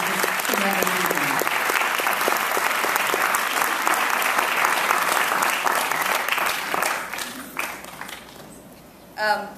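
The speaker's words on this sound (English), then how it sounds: "Please give them an extraordinary round of applause." A theater audience at an opening-night film screening applauds the film's directors, giving sustained, crisp clapping with faint voices underneath that thins out toward the end and trails off into a few scattered claps.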